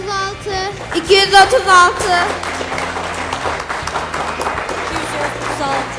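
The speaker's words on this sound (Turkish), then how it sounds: "alkışlar Hacivat ve Karagöz için" Audience applause for a Hacivat and Karagöz shadow-play act, a moderate wash of clapping that begins under lively voices and music-like tones and then continues as a mixed crowd noise.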